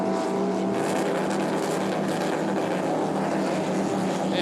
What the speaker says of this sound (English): Man, listen to the sound of that engine. It is not a purr by any stretch of the imagination.